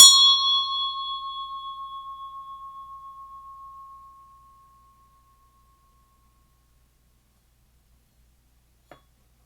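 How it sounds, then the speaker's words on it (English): A single hand bell struck to clear energy gives one bright, clear ring that fades slowly over about four seconds. Near silence follows, broken only by a faint click near the end. "I'm going to go ahead and ring my bell."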